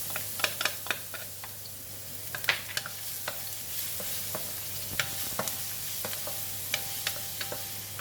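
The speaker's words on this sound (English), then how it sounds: "Oil is hot, I'm going to put in the garlic." Garlic sizzles steadily in hot cooking oil in a pan, a continuous close-up fry with irregular sharp crackles and pops scattered throughout, alone without talk.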